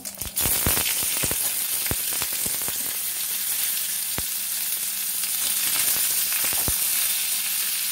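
Star fruit frying with dried chilli and panch phoron in oil, a loud continuous hiss of sizzling broken by sharp clicks and taps of stirring against the pan.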